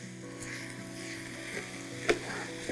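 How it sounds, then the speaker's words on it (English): Beef and cabbage stir-fry sizzling steadily in a pan while being stirred, with a brief scrape of the utensil near the end; no talking. "I'm gonna give this a good stir here"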